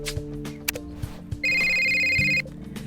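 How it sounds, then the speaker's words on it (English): A phone rings in the video game Criminal Case, a loud electronic ringtone burst lasting about a second over soft background game music. "Why does my phone have to ring just as we're about to leave?"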